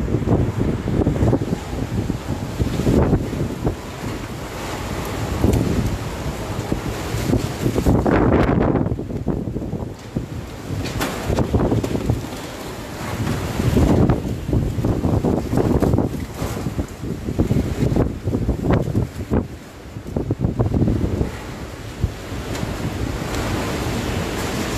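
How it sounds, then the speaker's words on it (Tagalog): Strong Super Typhoon Rolly (Goni) winds batter Naga City, a loud, roaring, gusting howl that surges and eases in waves over a continuous rushing din, with heavy buffeting against the microphone and no voices. "mukhang malakas pa rin yung hangin sa sa Milaor"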